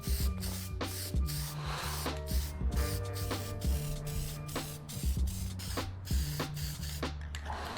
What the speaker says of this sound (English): I'm applying 2 coats of a matte black spray paint